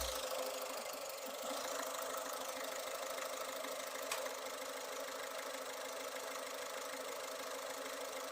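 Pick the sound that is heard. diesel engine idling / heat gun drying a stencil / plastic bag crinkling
diesel engine idling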